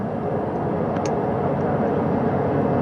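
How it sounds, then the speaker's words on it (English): A recovery helicopter approaches on a spacecraft recovery operation for the Artemis mission, a loud, steady rotor-and-engine roar that fills the scene, with faint speech underneath. "That second helicopter now making its way back over to the front porch."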